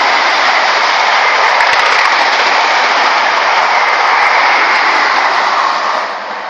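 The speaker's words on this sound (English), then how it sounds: "then a train came and I had to film it" A train roars past close by at Box Tunnel near Bath, a loud, steady rushing rumble that holds for several seconds before easing off at the end.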